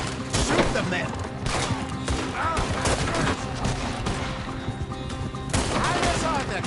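Rapid bursts of gunfire from an Arthur shootout in Red Dead Redemption 2 crackle almost continuously, dense volleys with heavier booming shots near the start and end, loud and close throughout.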